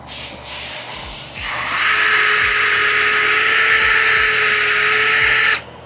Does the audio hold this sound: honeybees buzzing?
no